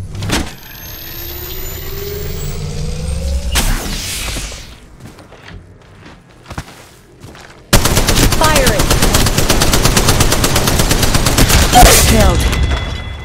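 Rapid automatic gunfire rattles in Apex Legends Mobile in Kings Canyon, dense and loud bursts after a quieter stretch of scattered shots and game effects.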